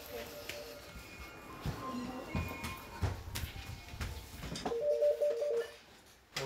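A telephone at a baby box rings with a short, warbling electronic tone that cuts through the room noise and background voices near the end.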